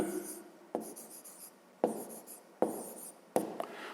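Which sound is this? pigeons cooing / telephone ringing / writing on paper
writing on paper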